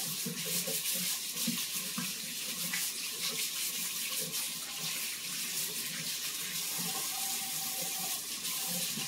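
Potatoes get washed under a running kitchen tap, a steady close rush of water with faint irregular splashes and scrubbing throughout, with no one speaking.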